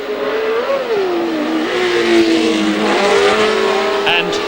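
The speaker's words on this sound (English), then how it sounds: "Rodriguez in the pits already with the BRM." Engine of a 1970 BRM Formula 1 race car at the British Grand Prix, a loud, sustained howl that rises and falls in pitch as the car moves near the pits, with commentary voices underneath.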